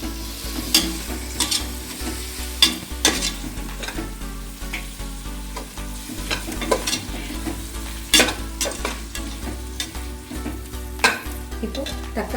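Handfuls of coriander and mint being stirred into biryani masala frying in a pan: a continuous sizzle with repeated sharp scraping strokes of a spoon, close and fairly loud, with a low steady hum underneath and no talking.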